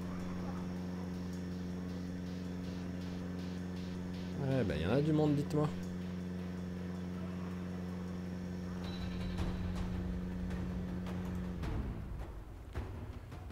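A car driving in the video game Project Zomboid gives a steady tonal engine drone that shifts in pitch and fades near the end, with a person talking over it.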